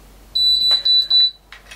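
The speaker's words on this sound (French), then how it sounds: "vous devez attendre les bips qui se fassent au maximum" A hair curling device beeps in a short series of high, clean electronic tones, loud and close, with a brief rustle of hair or handling near the end.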